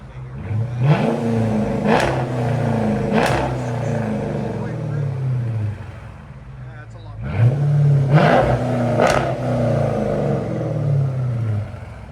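2012 Dodge Challenger R/T with a 5.7L HEMI V8 and Flowmaster Outlaws exhaust revving in four sharp blips, each rising and falling back to a deep burbling idle, close and loud.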